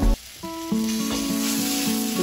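Tilapia fillet pan-frying with garlic and scallions, a close, continuous sizzle broken by a few dull knocks and scrapes of utensils against the pan.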